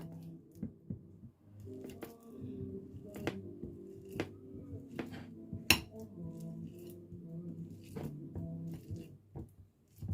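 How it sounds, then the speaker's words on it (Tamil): Irregular clinks and soft squishing as a banana is mashed in a bowl, close by, over a steady low hum. "முதல் இந்த வாழைப்பழத்தை நசிச்சு எடுக்க போகிறேன்"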